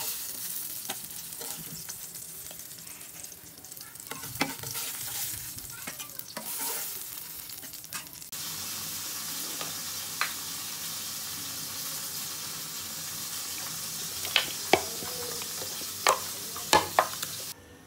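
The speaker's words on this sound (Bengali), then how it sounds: "বেগুন ভেজে নিয়েছি" Eggplant fries in oil in a pan, a continuous sizzling hiss with a spatula stirring and tapping, growing louder partway through, with a few sharp clinks near the end and no talking.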